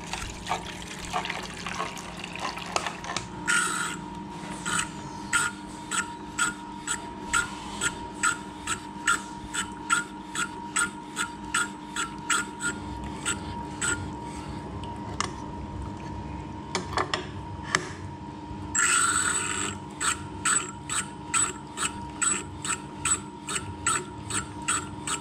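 A drill bit being sharpened on a water-cooled grinding wheel: rhythmic grinding clicks repeat steadily over a constant machine hum, with a trickle of coolant water; a brief harsher grinding burst near the end.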